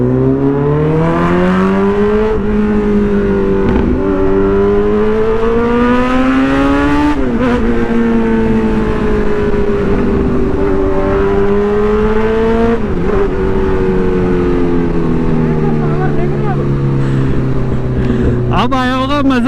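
A loud Kawasaki Z900 motorcycle with an aftermarket exhaust revs and pulls away through the gears, its harsh engine note climbing and dropping in repeated surges, very close and dominating throughout.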